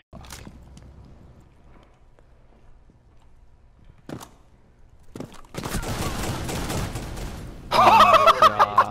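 Shotgun gunfire during a Rainbow Six Siege round, with scattered sharp reports in near-quiet that build into a dense, loud burst of firing and impacts toward the end.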